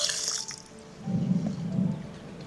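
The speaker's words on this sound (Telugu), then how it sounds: "నిండా నీళ్ళు పోసి 1 అరగంట నానబెట్టుకుందాం" Water poured over washed rice in a vessel to soak for crab dum biryani, a light trickle at first, then a fuller gurgling pour that swells and fades, close and moderately loud.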